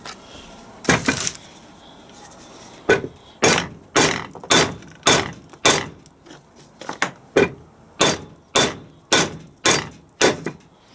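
Hammer blows drive a part out of a Land Rover Defender TD5 LT230 transfer box, about fifteen sharp metallic strikes in a steady rhythm, close and loud.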